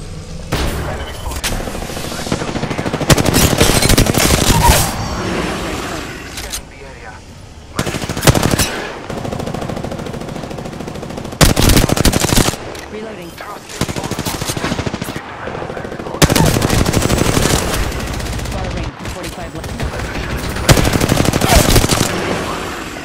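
Repeated bursts of automatic gunfire from Apex Legends, loud and close, arriving in several long volleys separated by brief quieter gaps of game ambience.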